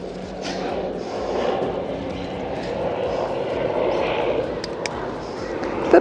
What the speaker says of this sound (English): Thank you, helicopter.